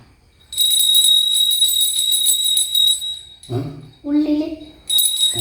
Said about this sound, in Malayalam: ഇത് ക്ഷേത്രത്തിലെ കൊടുക്കുന്ന മണി കൊടുക്കുന്ന മണിയാണ്